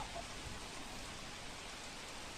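Heavy monsoon rain pours down on flooded fields near a highway in Mirakhedi village, Dahod, a steady, even hiss of falling water that stays constant and soft throughout, with no voices.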